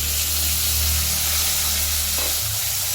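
Loud, bright sizzle of chopped tomato and green chili hitting hot oil with frying potatoes, a dense steady hiss that briefly shifts as the pan settles near the end.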